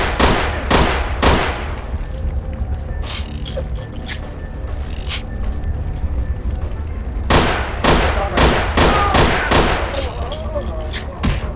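Gunfire in the vampire role-playing game VTM: Bloodlines, a series of loud, sharp shots in two clusters, several rapid blasts at the start and a denser volley later, over a steady rumbling background.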